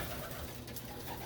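Low, soft cooing from pigeons in a loft, a brief, faint murmur of bird calls heard up close against a quiet background.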